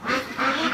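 Ducks kept in a barn during extreme winter cold give two quick, close, nasal quacks.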